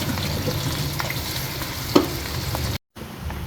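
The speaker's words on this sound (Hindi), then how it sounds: "ये सौटे हो रहा है हल्का हल्का सा।" Beef paya with ginger garlic paste frying gently in a pot gives a soft, steady sizzle with a few small crackles and stirring sounds.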